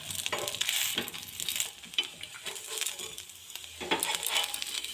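Carrot patishapta pitha frying in ghee in a pan, giving a steady close sizzle with scraping and stirring sounds as the rolled pancakes are turned, no voices.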